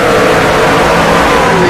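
Stock-car engines roar as the field accelerates on a green-flag restart at Daytona in a racing video game, a loud, dense, continuous engine blare filling the whole moment.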